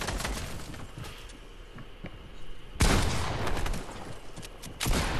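Video game gunfire crackles in rapid bursts of shots, fairly quiet at first, then sharper and louder volleys midway and near the end, with no talk over it.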